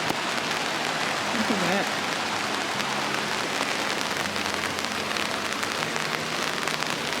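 Steady rain pours outside a cave entrance in Mikawa Mu Valley, a dense, continuous hiss of drops striking surfaces, with a person speaking briefly over it.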